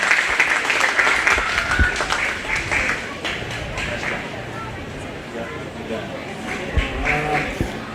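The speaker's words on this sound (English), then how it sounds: "Let's go ahead and give her a nice round of applause." An audience at a 4-H/FFA cattle show applauds a champion junior showman, a sustained patter of clapping that eases somewhat midway, with a voice over a loudspeaker and faint livestock sounds around it.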